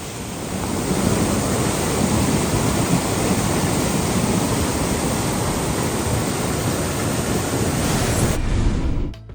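Floodwater in an overflowing stream surges past in a loud, continuous roaring rush, a dense broadband wash of water with no voices, cutting off abruptly near the end.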